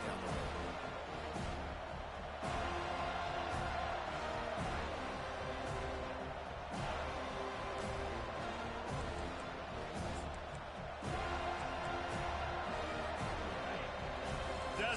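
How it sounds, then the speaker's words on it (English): Stadium crowd in the Madden 25 football video game roars steadily on a defensive third down, a dense, sustained wash of cheering that swells slightly, with a commentator talking over it. "Decibels rising as the crowd gets behind this defense on third down."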